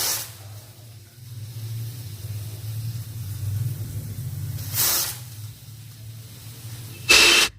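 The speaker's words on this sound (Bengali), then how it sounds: "প্রেশার কুকারে আমি 2টো হুইসেল আসা পর্যন্ত অপেক্ষা করব" A pressure cooker cooking dal for dalma, with a low steady hiss and bursts of sharp steam whistle, two or three short releases, the last loud and close.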